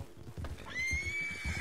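A horse whinnies in the Western video game Red Dead Online, a clear neigh rising then holding steady, backed by soft clip-clop hoof thuds and low rumbling in a wintry setting.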